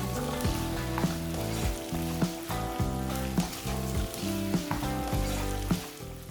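Sliced tomato cooking in a covered pan with browned onions for a chicken masala roast, giving a steady loud sizzle with repeated soft knocks and stirring sounds throughout.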